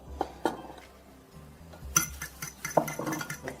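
Meatloaf ingredients with flour are mixed in a bowl, heard as scattered clinks and knocks of a utensil against the dish, a few sharper taps standing out from a quieter, shuffling background.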